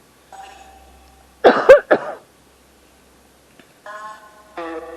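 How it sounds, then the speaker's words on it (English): A sharp, close cough, two or three harsh bursts, set between brief tonal electronic beeps with silence around them. "I am about to cough"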